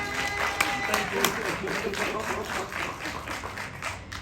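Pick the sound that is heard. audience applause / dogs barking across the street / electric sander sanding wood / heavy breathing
audience applause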